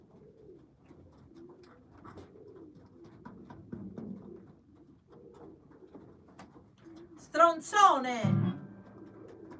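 Pigeon or dove cooing: a short burst of throaty, rolling coos rises late in the stretch, following quiet speech in Italian and low background murmur.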